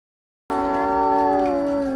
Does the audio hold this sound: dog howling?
yes